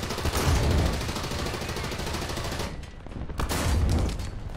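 Sustained burst of rapid gunfire from the tank combat video game War Thunder, dense and loud throughout with a brief lull before the firing picks up again.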